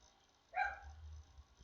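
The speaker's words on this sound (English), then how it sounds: "The dog doesn't like me talking at all." A single short dog bark sounds near an indoor spot, then a low rumble lingers, with no talking.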